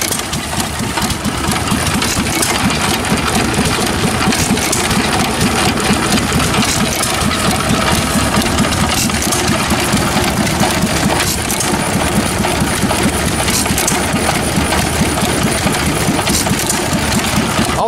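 A 1928 Jaeger Model S two-horsepower hit-and-miss engine with safety disc flywheels runs steadily at an outdoor engine show, its loud, continuous chugging filling the scene with busy mechanical clatter and no talk.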